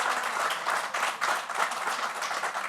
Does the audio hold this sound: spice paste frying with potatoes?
no